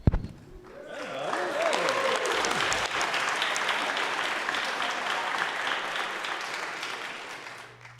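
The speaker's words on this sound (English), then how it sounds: "Really? We're applauding that? We're cheering that?" Legislators in a state House chamber break into sustained applause that swells after a second and holds steady for several seconds before tapering off, a broad roomful of clapping.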